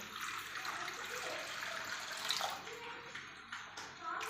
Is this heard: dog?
no